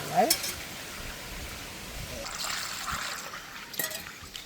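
Cowpeas being washed by hand in water in a village kitchen, giving a steady close swishing and trickling with occasional splashes and clinks, moderately loud and continuous.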